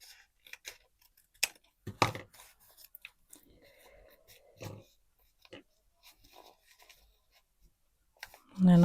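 Paper for a junk journal is snipped and handled at close range, with scattered crisp cuts and rustles spread across quiet pauses, ending in a louder thump.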